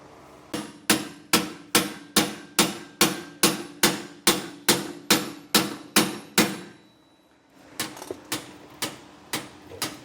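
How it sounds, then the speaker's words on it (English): A hammer strikes steadily during the install of a leaf spring suspension kit on a 2023 Palomino Puma, giving a run of about fifteen sharp metallic blows, then a short pause and a lighter, slower set of taps. "and then we'll start hammering down."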